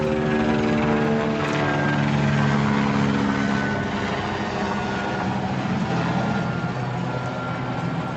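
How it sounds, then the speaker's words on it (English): A helicopter drones loudly and steadily overhead beside the River Trent, its rotor hum and engine whine holding constant throughout. "that's an intrusive helicopter"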